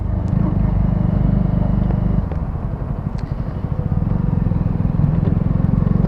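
A Honda CB 125R motorcycle engine drones steadily while riding, a loud close low hum with a brief dip in pitch partway through, with no voices over it.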